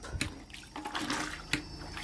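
A mop end pushes a folding camper's bedroom pod fabric down into a tub of soaking dye water, giving soft sloshing and dull knocks over a steady wet background, close and moderately quiet.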